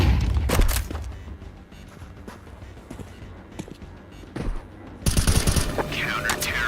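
Bursts of rapid gunfire and sharp shots crack through a Counter-Strike round, clustered at the start and again near the end after a thrown flashbang goes off, with a loud bright burst closing things out and a voice talking briefly.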